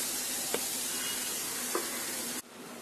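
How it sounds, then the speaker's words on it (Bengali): Chopped peeled potatoes sizzle in a hot pan on the stove. The hiss is steady, with two small clicks, then it cuts off abruptly near the end. "চুলায় একটা প্যান বসিয়ে আমি দিয়ে দিচ্ছি 1 কাপ কুচানো আলু।"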